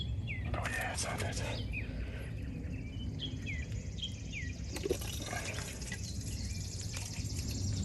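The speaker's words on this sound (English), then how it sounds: "So I can hear the water trickle into here." Water trickles and drips softly into a lawn sprinkler pipe under a low rumble while birds chirp intermittently in the background.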